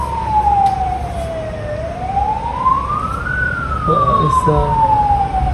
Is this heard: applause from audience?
no